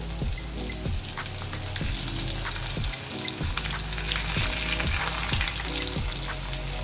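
Hilsa fish pieces fry in hot oil in a Bengali home kitchen, a loud continuous sizzle with crackling spatters, and a utensil knocks against the pan at a steady rhythm of roughly once a second.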